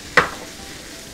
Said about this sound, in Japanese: 最後に鍋肌に醤油、